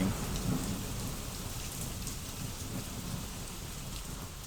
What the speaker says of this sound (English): I don't think I've ever heard such a strong thunder / lightning effect in any song or anything.